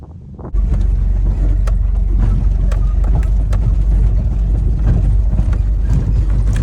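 Mitsubishi Delica L300 turbo diesel Star Wagon van driving uphill, a loud steady low rumble of engine and road noise that starts abruptly and continues unbroken, heard from inside.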